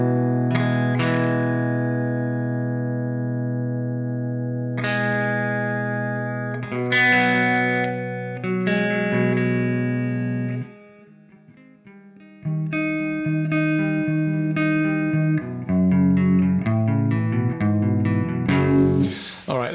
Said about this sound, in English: like the chorus and the flanger pedals and with the once you punch it with some EQ, it actually this particular amp model sounds really good.